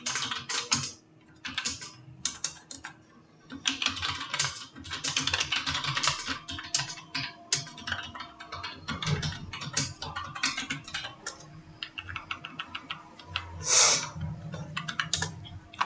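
Steady fast typing on a computer keyboard while writing in a Microsoft Word 2007 document, with dense clattering keystrokes running throughout, close and moderately loud, including occasional heavier Enter key presses, with no voices.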